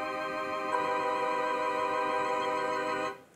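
A sustained minor major seventh chord rings steadily, a minor triad with a major seventh on top, held evenly for about three seconds before it is cut off.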